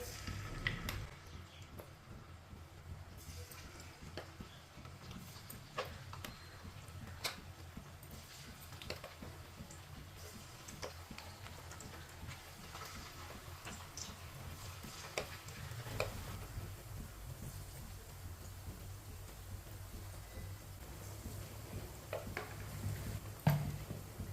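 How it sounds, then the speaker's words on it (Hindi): Chicken pieces frying in hot oil over a medium flame, a faint steady sizzle with scattered soft ticks and pops throughout, no voices. "अब चिकन का एक एक पीस करके डाल लेंगे।"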